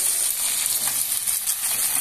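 Carp fries in a pan, producing a steady, dense hiss and crackle of hot oil that stays even and close throughout with no talk over it.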